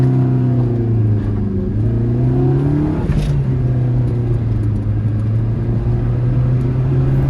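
An old Maruti Swift VXI running on petrol accelerates hard, its engine note climbing steadily, dropping briefly at a gear change and then pulling on again in a loud, continuous drone heard from inside the car.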